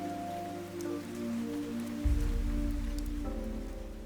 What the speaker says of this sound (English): But even the rain soon began to weaken.